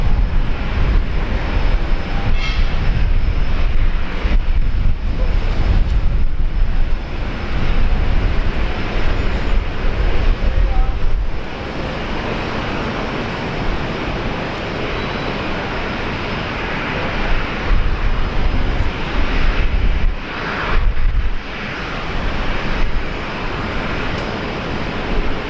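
An airliner lands on runway 01 right at Brisbane Airport, a loud, sustained roar of jet engines that swells and eases over the whole span, with no talk.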